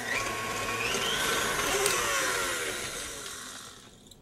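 An electric mixer, handheld or stand type, creams cookie filling in a mixing bowl with a steady whirring drone that holds near and even throughout.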